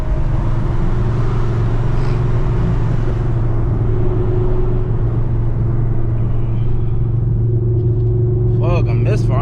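A 900-horsepower Chevrolet Camaro ZL1 with a misfiring engine, heard from inside while driving: a loud, steady low rumble with a rough tone. Someone talks over it throughout.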